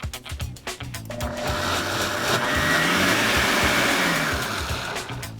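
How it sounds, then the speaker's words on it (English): A blender whirs up to a steady high-speed motor drone after a few brief clatters, running continuously and loudly near the microphone while blending carrot puree to smoke it. "Now we're going to blend the carrot puree until the smoke has roughly dissipated."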